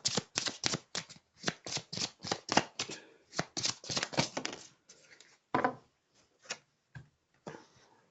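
Tarot cards shuffled by hand, a quick run of crisp riffling slaps and flicks close by, then slowing to a few separate snaps and soft slides as cards are drawn.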